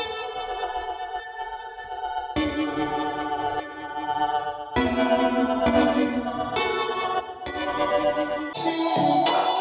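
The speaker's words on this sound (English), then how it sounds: "I put an amp on it and I just made it sound kind of weird" A synthesizer played through an amp, distorted and warbling with chorus-like wobble, sustained chords changing every couple of seconds, ending on higher bright notes.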